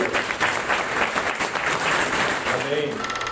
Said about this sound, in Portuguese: queria dar uma salva de palmas para Jesus.